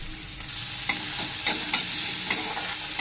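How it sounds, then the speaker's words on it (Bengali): Chopped onions fry in mustard oil in a wok, a steady close sizzle broken by a few sharp scraping stirs roughly every half second to second, with no voices. "পেঁয়াজটা একটু ভেজে নিচ্ছি।"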